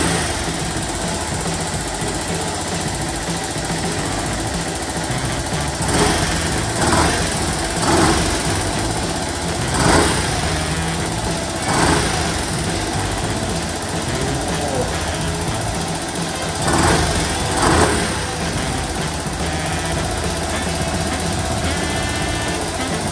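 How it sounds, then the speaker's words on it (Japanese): A modified Honda Cub engine bored out to 75cc, with polished ports, a carburettor and a mushroom-type air filter, runs at idle with a steady, loud chugging beat and occasional small surges. "というわけでちょっとねエンジンかけてみようと思います。"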